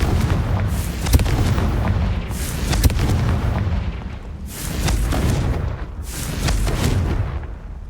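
Confringo fire spells explode in Hogwarts Legacy, landing as a string of heavy, rumbling booms, roughly three big blasts with crackling tails, loud and close, with no talking.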